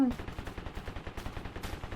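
Rapid gunfire in the video game Totally Accurate Battlegrounds, a steady rattling burst of many quick shots heard faintly at a distance throughout.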